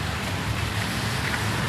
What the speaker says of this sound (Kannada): ನೋಡಿ ಮಳೆ ಹೇಗಿದೆ.